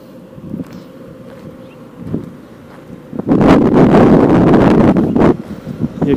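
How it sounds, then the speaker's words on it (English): Wind blows outdoors in El Cajon, California, first as a low rumble, then buffeting the microphone in a strong, roaring gust that lasts several seconds. "Here comes a wind on this side."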